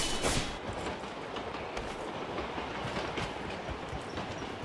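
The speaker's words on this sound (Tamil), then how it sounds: "இந்த ட்ரெயின் ஏன்டா வந்தோன்றது." A train in a video game rumbles past steadily with a clattering roll, loud from the start and holding a constant wash of noise without talk.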